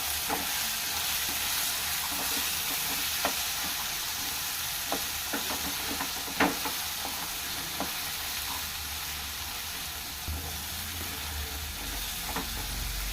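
Chickpea curry masala with coriander and cumin powder being stirred in a pan, a steady frying sizzle with scattered spoon scrapes and clacks throughout, no voices.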